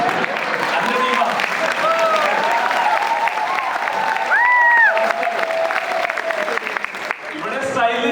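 Sustained applause from an audience at a business executive meeting in Kochi, dense clapping with whoops and voices rising in the crowd, holding steady before thinning out at the end.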